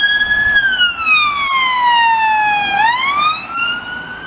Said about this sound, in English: set an ambulance with a police car going past. I'll just wait till that, it's a paramedic van, I'll just wait till that goes past